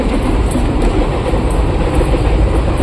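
A passenger train rolling past close by, a loud continuous rumble and rattle of wheels and carriages filling the whole moment, with no talking.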